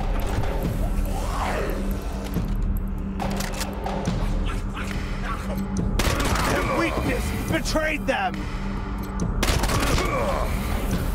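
Repeated shotgun blasts and gunfire in the video game Wasteland 3, sharp loud bursts clustered in several volleys over a constant game soundtrack, with speech in the mix.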